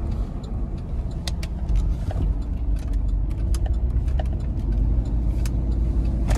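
A 2007 Cadillac Escalade drives with its transmission failing to shift, a steady low engine drone and road rumble filling the cabin without a gear change, with faint ticks and rattles over it.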